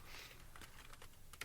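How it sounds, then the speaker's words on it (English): Rapid typing on a computer keyboard, a quick run of light key clicks at close range that turns sharper and louder toward the end, with no talking. "of course my typing is off by one key."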